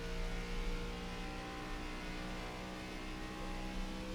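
An ARCA race car in iRacing at Homestead, its engine droning steadily at high revs under throttle, a continuous tonal mid-pitched roar with no pause.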